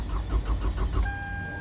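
A 2009 Toyota Camry is cranked with a newly programmed key: about a second of rhythmic, pulsing starter turnover, then steady electronic chime tones take over as the cranking stops, with no voices.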